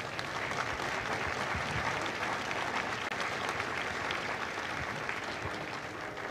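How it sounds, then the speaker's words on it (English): At a Marine recruit graduation ceremony at MCRD San Diego, a large crowd gives sustained applause for recruiters and combat instructors, an even, dense roar of clapping held steady throughout at a distance. "a round of applause for our recruiters and our combat instructors."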